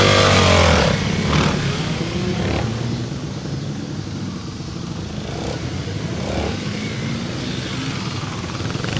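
A motorcycle laps a timed three-pylon section with low handlebars, its engine droning loudly and continuously with rising and falling revs as it turns around the pylons.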